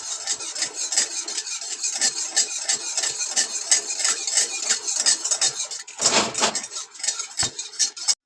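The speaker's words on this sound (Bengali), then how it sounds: "এটা লেগে যেতে পারে, তখন একটু ভালো করে নাড়াচাড়া করে নিলেই তৈরি হয়ে যাবে" A sweet mixture for Mohan bhog mishti gets stirred in a pan, with constant close scraping and rhythmic clinks of a utensil on metal and a brief louder scrape near the end, no talking.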